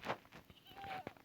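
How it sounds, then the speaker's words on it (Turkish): A goat from Minecraft 1.18 lets out a single short, wavering bleat, fairly faint, with a few soft game noises around it. "Bu bildiğimiz keçi."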